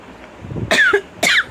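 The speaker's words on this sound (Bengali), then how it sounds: "কাশি হয়েছে খুব" Two harsh, close coughs in quick succession, each a short rough burst after a faint breath.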